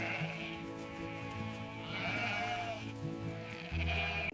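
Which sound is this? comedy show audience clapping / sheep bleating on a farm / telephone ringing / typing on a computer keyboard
sheep bleating on a farm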